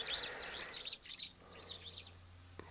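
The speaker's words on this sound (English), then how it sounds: "there's some red-billed buffalo weavers that have come down" Red-billed buffalo weavers call at a waterhole, a busy cluster of high chirps and tweets over the first second and a half, then softer scattered calls against a low steady hum.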